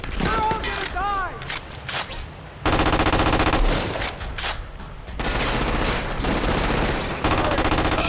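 Rapid automatic gunfire bursts loudly in the Crackdown 2 video game, in long sustained volleys broken by brief gaps, with game voices and effects mixed in.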